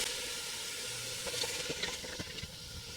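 Onions sizzling and frying steadily in a pan for pasta, a continuous close hiss with faint stirring clicks, no talking.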